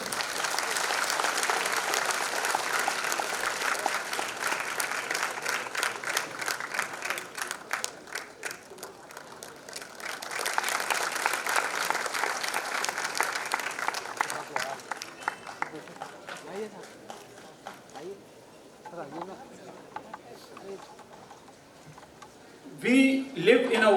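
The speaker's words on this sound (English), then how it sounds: "Please give a big round of applause." An audience at an academic session welcoming a guest professor claps in sustained applause that swells, fades toward the end, and gives way to a speaking voice.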